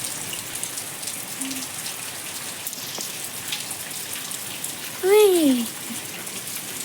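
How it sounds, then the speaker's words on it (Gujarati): Rain falling outdoors during monsoon weather, a steady soft patter of drops, with a brief vocal exclamation near the end. "ફ્રેન્ડ્સ અહીંયા વરસાદ ચાલુ થઈ ગયો છે"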